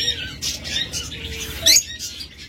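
Pet lovebirds, budgerigars and cockatiels chirp and tweet in a flurry of quick high calls, with one sharper squawk standing out near the end, over a steady low room hum.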